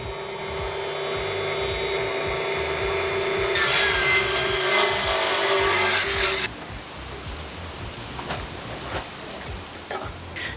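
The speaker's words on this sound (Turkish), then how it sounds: "Görmüş olduğunuz gibi hiç zorlanmadan tahta parçamızı kestik." Raitool T4 mini table saw at maximum speed cutting through a piece of wood, a loud steady whine that rises as the blade bites in, then drops back to a quieter running hum once the cut finishes.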